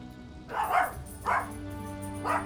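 Dogs bark in the distance as someone arrives home, three muffled barking bursts spaced apart over a low steady hum.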